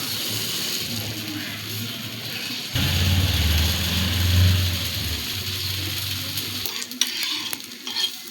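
Grain dosa batter sizzling on a hot tawa, a loud steady hiss that swells when the batter goes on and is spread, with a low rumble underneath and some clatter toward the end.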